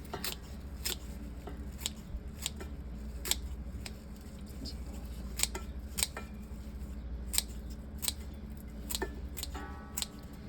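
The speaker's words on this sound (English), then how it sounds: "cleaning it, washing it really well, cutting it up, and then putting it in the pot to be cooked" Scissors snip through fresh kale for cooking, a series of sharp, crisp cuts spaced about a second apart over a low steady room hum, fairly close and with no one talking.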